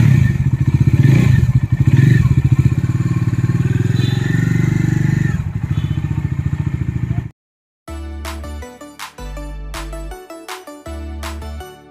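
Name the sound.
motorcycle starting and riding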